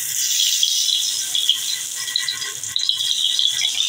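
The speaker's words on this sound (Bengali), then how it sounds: "এবার কড়াইয়ে গরম তেলে জিরে ফোড়ন দেব" Cumin seeds crackle in hot oil in a wok with a bright, close, busy sizzle and many small irregular pops and rattles.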